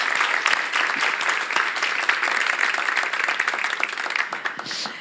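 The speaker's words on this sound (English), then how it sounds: "This applause is for you." Audience applause for a speaker at a talk on social gastronomy and fair food systems. Continuous clapping from a sizeable crowd fills the room at moderate loudness, with faint voices underneath.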